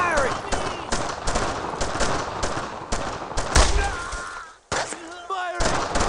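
Gunfire from the video game Brothers in Arms: Road to Hill 30 rattles in dense, loud automatic bursts and single shots almost without pause, mixed with shouting voices and a short gap near the end.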